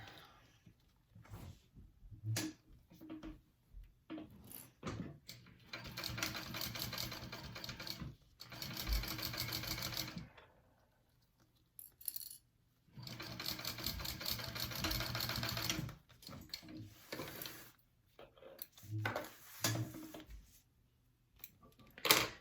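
A sewing machine bastes a bag handle in place with two long bursts of steady stitching, broken by short starts and stops, close and clear with no talking.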